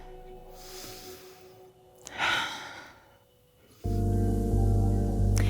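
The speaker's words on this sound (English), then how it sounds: "Breathe in and back in." Deep breaths during a gentle recovery workout: a faint inhale, then a louder sighing exhale up close, before a steady droning background rises in.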